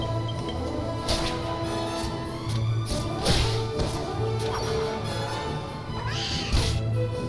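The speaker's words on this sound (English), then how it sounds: "these candy cats are a really strange monster" Candy cat monsters in the Dragon Quest VIII video game meow repeatedly over steady game music and battle effects, with a few sharp hits mixed in.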